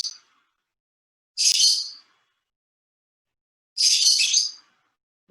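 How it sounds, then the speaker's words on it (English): A pet bird in a home gives two loud, high chirping calls about two seconds apart, each lasting roughly half a second, with quiet gaps between. "Probably my bird is listening to my lecture and getting excited."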